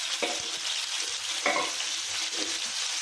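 Chopped onions sizzle and crackle in hot coconut oil in a pan, a steady close frying hiss broken by a few stirring scrapes, with no one talking.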